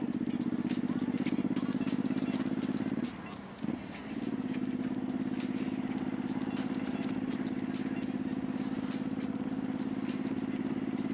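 A 2006 Suzuki M109R motorcycle cruises along on the way to work, its steady engine drone loud and continuous throughout, dipping briefly for a moment before resuming an even hum.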